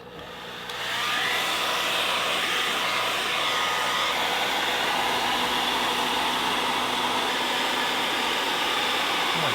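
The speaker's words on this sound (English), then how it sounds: "Also got a hairdryer here to work on this side." A handheld hairdryer heats the wood of a toboggan to bend it for winter camping, switching on and settling into a loud, steady, close-up whooshing blow that continues without a break.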